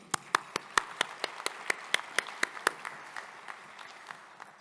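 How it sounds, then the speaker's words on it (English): Clapping at an annual luncheon: a crisp, evenly paced run of close handclaps that thins out and fades toward the end. "Let's give them a round of applause."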